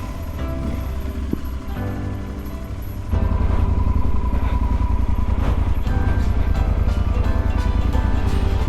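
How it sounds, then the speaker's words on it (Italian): A motorcycle ridden along an 800-metre stretch of mud on the way to Quilotoa lagoon, its engine a steady close drone that grows louder and rougher midway, with no clear talk. "guidare la moto in questi 800 metri di fango"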